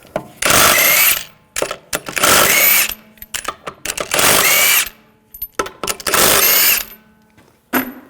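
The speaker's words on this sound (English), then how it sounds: "take the lug bolts out." A power tool fitted with a 19mm socket spins lug bolts out of the rear wheel of a 2001-2009 Volvo S60, four loud whirring bursts about a second each, separated by short gaps with small clicks and clatter.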